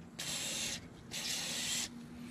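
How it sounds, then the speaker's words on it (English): Two short bursts of hissing aerosol lubricant sprayed onto a spring part of a Craftsman 22-inch dual-stage snowblower with a Tecumseh Snow King 5 hp engine, each lasting under a second, close and fairly loud, with a brief gap between them. "Spray a little bit of lube here."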